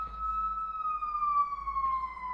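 A siren wails steadily, its pitch slowly falling as it passes, with a low rumble of traffic underneath.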